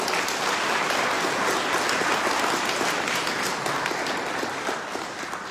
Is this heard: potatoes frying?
no